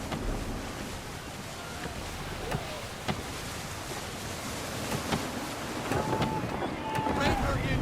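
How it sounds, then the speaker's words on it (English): Gusty wind and a sailing ship at sea in Assassin's Creed III, a steady broadband rush of wind and water with creaks and faint tonal calls late on, fairly loud and constant. "Gusty winds can be difficult to manage."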